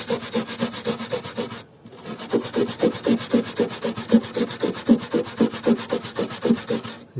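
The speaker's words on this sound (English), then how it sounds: "Just grab the wire brush." A wire brush scrubs rust spots on the body of an Opel/Vauxhall car in fast, steady back-and-forth strokes. The rasping is loud and close, with a brief pause near the start, and no one speaks.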